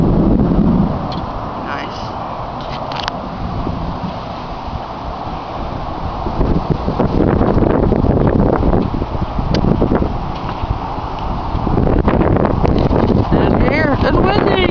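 Strong gusty wind from a Florida thunderstorm squall buffets the microphone outdoors, a loud roaring rush that swells and eases throughout, with voices occasionally heard beneath it.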